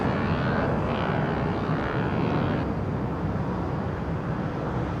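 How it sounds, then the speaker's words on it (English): A Boeing 767 taxis at London Heathrow Airport near the perimeter fence by runway 09R, making a loud, steady broadband jet-engine roar close by that holds throughout, with no talking. "People down at the gas station now watching that 767 taxi along the perimeter fence."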